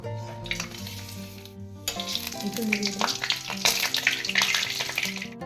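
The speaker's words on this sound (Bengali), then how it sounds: "ফোড়নে একটা তেজপাতা একটা শুকনো লঙ্কা জিরে এলাচ লবঙ্গ আর দারচিনি নিয়েছি এগুলো আমি দিয়ে দেবো" Whole spices (bay leaf, dried chili, cumin, cardamom, clove and cinnamon) hit hot oil for a Bengali mutton-fat ghugni, bursting into a loud, close sizzle that swells and crackles steadily, with light clinks of utensils.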